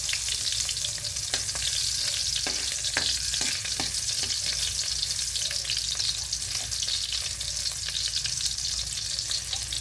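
Garlic and onion sautéing in a hot pan for a chicken feet dish give a loud, continuous sizzle up close, broken by occasional light taps of a stirring utensil, with no talking.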